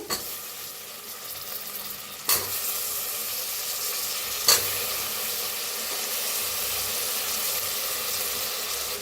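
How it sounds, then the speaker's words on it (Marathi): Potatoes roasting in a pan for soya pulao, a constant loud sizzle with two brief stirring clacks. "जरा मिक्स करूया छान असं भाजून घेऊया बटाटोला बी"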